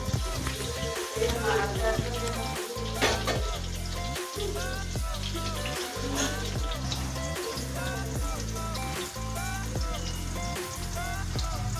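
Onions fry toward golden brown in hot oil for a homestyle chicken biryani, giving a steady close sizzle and crackle throughout with no voice over it.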